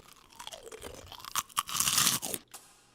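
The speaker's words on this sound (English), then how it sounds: "This is good caramel corn, and I can tell you just by making sound with it." Homemade caramel corn crunches close up, with bursts of crisp crackling and chewing that swell and then stop abruptly.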